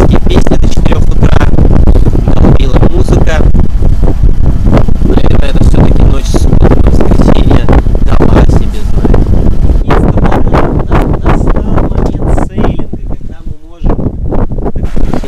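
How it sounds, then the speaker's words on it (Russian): Strong wind roars and buffets loudly and continuously on a sailboat at sea, with a voice speaking underneath the gusts. "Сейчас у нас задул этот ветер"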